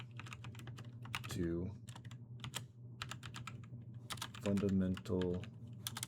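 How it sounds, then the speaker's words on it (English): Uneven typing on a computer keyboard while writing a C# program, quick irregular key clicks running close and clear under a man's speech. "I'm sorry, my typing is very poor."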